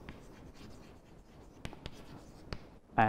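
Equations are written on a board with short scratching strokes and a few sharp taps, quiet and close, with faint pauses between marks and a louder knock at the end.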